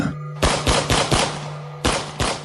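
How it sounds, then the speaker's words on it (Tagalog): Rapid bursts of gunfire used as a sound effect in a horror story, five or six loud, sharp shots in two quick clusters with a brief pause between them, close and punchy over a low hum. "Kasunod nito ang napakalinaw na sunod-sunod na putok ng baril."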